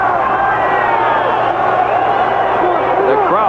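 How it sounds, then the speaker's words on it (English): Football stadium crowd at a 1985 USFL game between the Memphis Showboats and Portland Breakers, a steady roar of cheering under a commentator's continuous play-by-play. "The crowd is finally getting into the game after the third interception."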